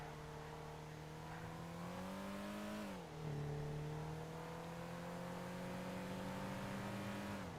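A car engine in the video game GTA Online drones steadily throughout, its pitch rising gradually, dipping sharply for a moment near the middle, then holding high again as the car keeps driving.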